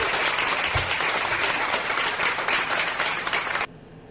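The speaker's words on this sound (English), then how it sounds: "applause is acting weird" A crowd applauds steadily and loudly for several seconds in the wrestling video game WWE '13, and the applause cuts off abruptly near the end.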